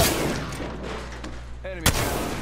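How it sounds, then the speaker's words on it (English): Gunfire in a multiplayer shooter video game gives a burst of loud shots at the start, then quieter background rumble and a sharp report near the end, with a metallic ringing sweep just before it. "Gunfire, and they're hitting me."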